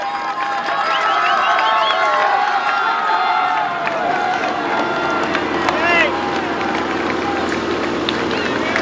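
Roadside crowd cheering a Tour de France rider on a mountain climb, a continuous wash of shouts and whoops under a commentator's voice, with excited cries rising and falling.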